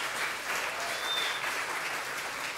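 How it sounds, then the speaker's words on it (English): A church congregation breaks into a round of applause during a sermon, steady clapping throughout, moderately loud and slightly distant, with no talking over it. "give God a round of applause if you understood what I just said."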